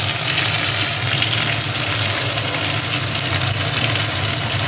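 Onion, ginger and garlic paste sizzling in hot oil in a pan, a loud, dense, unbroken hiss held steady throughout at close range.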